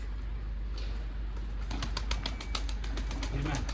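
Pigeons shuffle and coo in a small home loft housing old Mardin-breed birds, soft rustles and low coos followed by a run of sharp taps and wing clatter close by.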